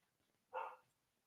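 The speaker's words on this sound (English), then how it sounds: "my dog's barking" A single short dog bark, faint and somewhat distant, in an indoor home setting, standing alone against quiet background.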